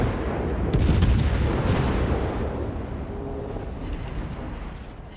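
A warship's main gun salvo fires in World of Warships, a heavy booming volley with a couple of sharp cracks early on, then a long rolling rumble that slowly fades.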